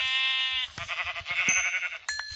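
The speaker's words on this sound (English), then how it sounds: "Okay, so we're gonna kill this sheep." Blocky Minecraft sheep give a few nasal bleats in quick succession, each wavering and close, with soft game thuds and a small chime in between, no speech.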